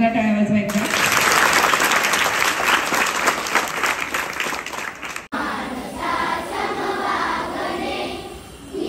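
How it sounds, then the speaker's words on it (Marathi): Loud, sustained applause from an audience at an honouring ceremony for local artists in Thane district, dense clapping filling the whole stretch and easing slightly near the end with crowd murmur. "जोरदार टाळ्या वाजवायचा."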